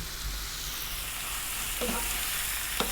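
Spiced fish going into a pan with garlic ginger paste, a loud continuous close sizzle with a couple of brief scraping stirs, no talking.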